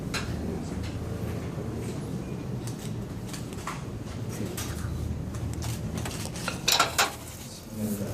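Potato being mashed in a pot with a wooden spoon at a cooking workshop, a continuous muffled knocking and scraping over a steady room background, with a few sharper clinks near the end.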